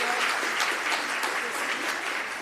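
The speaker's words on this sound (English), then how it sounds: "Shall we give them a round of applause?" An audience at an employee celebration event claps in steady, sustained applause, a dense even patter filling the room throughout.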